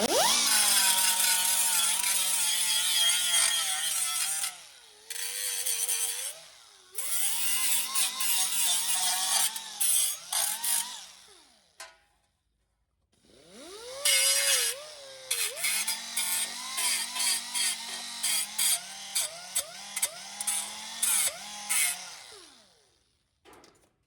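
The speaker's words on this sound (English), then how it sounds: "Cut down, or get rid of the burrs on it so you don't cut yourself." Power tool grinding and deburring a freshly cut metal cab corner panel on an 88–98 Chevy OBS truck, loud harsh bursts in several runs with brief pauses and a short silent gap midway.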